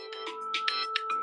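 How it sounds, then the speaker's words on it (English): A phone ringtone signals an incoming call, a bright melodic electronic pattern of repeating tones playing clearly and alone. "I got a phone call."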